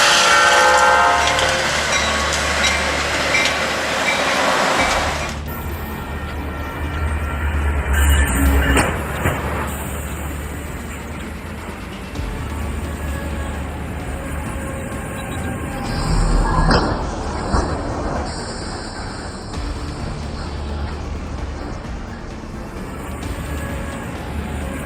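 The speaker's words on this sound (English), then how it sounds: "Train hits windmill truck" A train striking a windmill transport truck at a crossing, with a loud horn blast and a heavy rumble of rail cars rolling past, a sharp crash midway, then steady clattering wheels.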